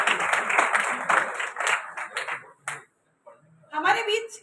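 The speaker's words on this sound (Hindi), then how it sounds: "मैं चाहती हूँ कि आप लोग अपने लिए एक बार ताली बजाकर अपना खुद का स्वागत करें।" Audience applause at a poetry and honour ceremony in a Hindi literary society's auditorium: a burst of hand clapping fills the room for nearly three seconds, then fades to silence before a voice resumes speaking.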